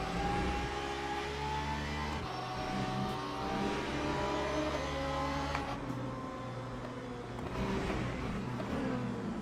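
Race car engine in the Le Mans Ultimate sim at Silverstone, loud and continuous, revving up through gears with rising pitch sweeps and brief dips at shifts, no talk.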